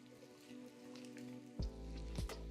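Green beans tipped into a hot pan with onions and garlic, bursting into a sudden loud sizzle with a couple of sharp hissing flares after a quieter background fizz.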